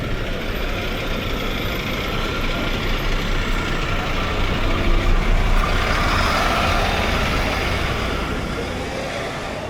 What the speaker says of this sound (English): Ah, these cars are relentless here.